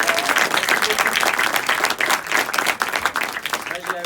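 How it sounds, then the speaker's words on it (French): A cinema audience at a film premiere applauds the director Philippe de Chauvron, loud, dense clapping close by that continues for several seconds, with crowd voices and some talk mixed into the applause. "je vous demande encore d'applaudir Philippe de Chauvron"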